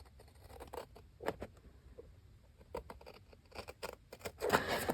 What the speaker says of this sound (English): Use my bigger scissors.